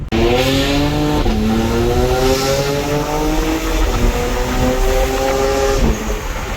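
A tuned stage 2 BMW E92 335is engine revs loudly and close, its pitch climbing and dropping in repeated pulls with a raspy, droning exhaust note.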